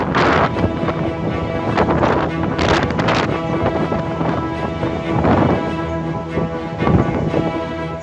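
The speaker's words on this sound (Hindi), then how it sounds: "गरजती हुई तूफानी हवाएं और रेत का बवंडर।" Roaring storm winds tear through a sandstorm in Jaisalmer, Rajasthan, a loud continuous buffeting gusty roar with heavy wind noise against the microphone and surges rising and falling.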